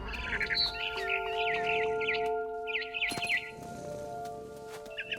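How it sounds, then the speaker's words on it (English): Barn swallow chirping in the video game What Remains of Edith Finch: repeated bright, rapid twittering phrases over a steady tonal ambient drone, with a sharp thump midway and no speech. "Then I heard chirping outside my window. It was a barn swallow going back to her nest."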